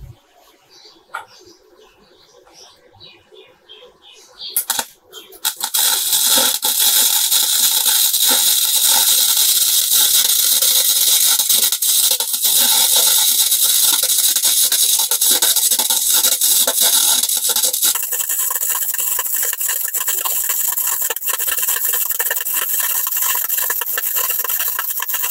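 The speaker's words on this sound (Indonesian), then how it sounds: "Oke, langsung saja saya akan coba las." A Daiden MIGi 135XL gasless MIG welder laying a bead, starting after a few quiet seconds of handling noise, then a steady loud crackling hiss that runs on without a break, slightly softening toward the end.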